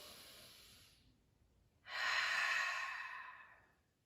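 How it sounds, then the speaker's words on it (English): A slow, deep breath during a yoga session for wrist pain relief: a soft inhale, a pause, then a longer and louder exhale that swells and fades gradually, close and alone. "Let's take a deep breath here."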